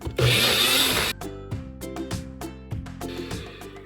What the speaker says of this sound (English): And then we blend.